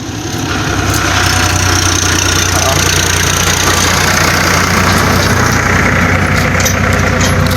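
A motorbike engine starts up and runs steadily close by, a loud continuous rumbling drone.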